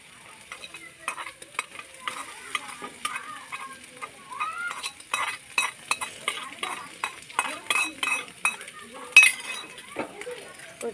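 A fried egg is stirred and scraped in a pan while cooking Maggi noodles, giving soft, irregular scraping and clacking strokes over a faint sizzle, close and fairly quiet, with a voice talking over parts of it.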